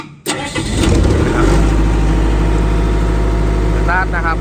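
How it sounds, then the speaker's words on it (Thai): A Denyo 45K diesel generator cranks and catches after a short silence, then settles into a loud, steady, close idle drone with a low thrumming hum. "เดี๋ยวผมจะมาสตาร์ทให้เบิ้งนะครับ"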